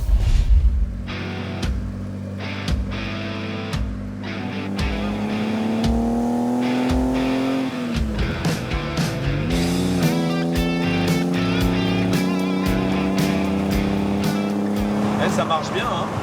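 A 1964 Mercedes 230 SL Pagode roadster driving with its hardtop removed, its engine holding a steady drone that rises and falls through gear changes, loud and close throughout, with talk over it.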